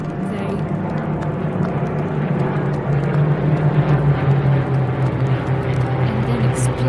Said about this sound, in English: When the planes flew above,